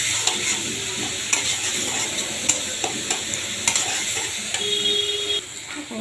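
Garlic paste sizzles steadily in hot oil in a pan while a spoon stirs it, with scattered scraping clicks and a continuous bright hiss throughout, close and alone.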